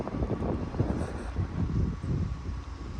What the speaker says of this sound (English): wind is blowing good